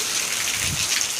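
Steady rain pours down in a flooded village yard, a dense even hiss of drops hitting surfaces close by with no voices.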